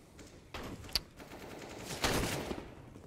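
Mag-7 shotgun fire in a Counter-Strike match on the Cobblestone map: a sharp blast near one second and another burst around two seconds, set in a steady wash of rattling gunfire with no talk.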